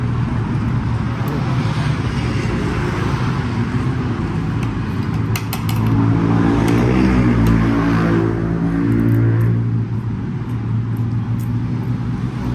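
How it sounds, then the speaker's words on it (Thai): A loud car passes along a street beside a roadside food stall, its engine and tyre rumble swelling in the middle of the clip and then fading under steady traffic noise. "เสียงรถดังเลยนะเพื่อนๆ"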